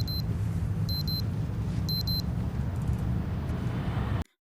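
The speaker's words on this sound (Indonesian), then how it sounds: "alarm di jam Dawn berbunyi, yang menandakan waktu yang sama dengan jam ibunya" A wristwatch alarm goes off in short paired high electronic beeps, repeated three times over a steady low rumble of road traffic before cutting off abruptly.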